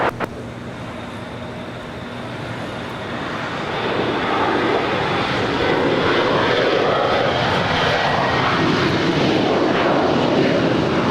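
A JetBlue Airways airliner arriving from Charleston at Los Angeles LAX roars steadily as it nears, its broadband jet noise swelling louder after the first few seconds and holding strong, with no voices.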